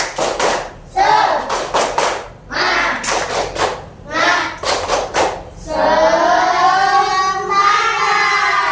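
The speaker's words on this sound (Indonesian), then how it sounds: "Tepuk semangat." Group of fourth-grade schoolchildren doing the rhythmic 'tepuk semangat' spirit clap, loud bursts of patterned clapping in quick clusters, then a sustained sung or chanted passage.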